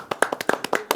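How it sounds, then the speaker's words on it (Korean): Hands clap in a TV studio as a guest arrives on a Korean political talk show: a brisk, close run of crisp claps, unevenly spaced, over about a second with no speech. "이렇게 뒤에 와야지 박수를 받아요."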